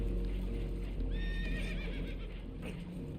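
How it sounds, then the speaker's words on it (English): Spooked horses whinny and neigh loudly in Red Dead Redemption 2, a shrill wavering cry rising over a constant rumble of rushing water and hoof clatter aboard a damaged boat taking on water. "Horses are spooked, and we're taking on water."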